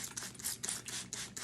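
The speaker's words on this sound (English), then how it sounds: "we want to spray a little mist of water on the top of these guys here" A hand spray bottle mists water over the soil of freshly sown winter garden seeds, giving about half a dozen short, close hissing spritzes in a quick irregular rhythm, with no one talking.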